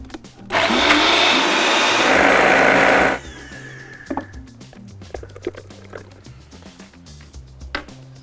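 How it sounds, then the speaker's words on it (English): A blender whirs loudly for about two and a half seconds, mixing a cooled apple mixture with a stick of butter, then cuts off, leaving quieter clatter and kitchen handling noises. "So we've cooled down the apple mixture. Yep. Got it in the blender now."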